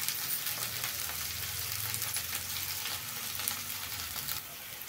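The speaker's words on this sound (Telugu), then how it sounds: "మనమంతా ఇది గోల్డెన్ బ్రౌన్ కలర్ వచ్చే వరకు వేయించుకున్నామండి." Okra pieces frying on a low flame until golden brown: an even, continuous hiss and gentle crackle of oil, close up, with a faint low hum beneath and no talking.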